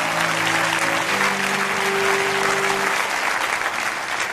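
A church congregation applauds and cheers for the Lord, with steady dense clapping from a large crowd and a sustained voice ringing over it.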